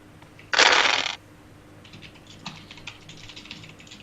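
Real dice rolled during a tabletop Shadowrun game session: a loud, short clatter as they are thrown, then a string of lighter rattling clicks as they tumble and settle, with no talk.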